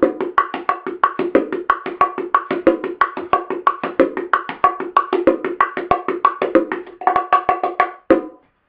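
Bongos played in a fast salsa martillo pattern, a steady stream of crisp, bright slaps and tones in a quick repeating rhythm, close and loud with no talking, ending abruptly on a final hit.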